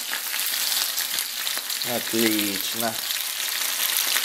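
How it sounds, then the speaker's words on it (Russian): Potatoes sizzle and crackle steadily in a hot pan on an electric stove, a close, continuous frying hiss with a brief spoken word partway through. "Картошечка уже наша жарится."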